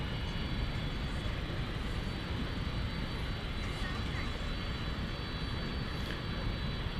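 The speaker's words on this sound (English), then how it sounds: "Peek inside the cockpit as it gets pushed back." Airliner jet engines at night during pushback at DFW Airport, a steady broad roar with a faint high whine, constant and fairly distant, with a voice talking quietly beneath it.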